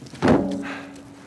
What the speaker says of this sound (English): Toss down your gear.